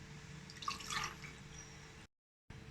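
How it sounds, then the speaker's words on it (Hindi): Raw mango sharbat trickles and splashes softly into a glass for about two seconds, faint and close, followed by a short silence. "अब हम इसको गिलास में निकाल लेते हैं।"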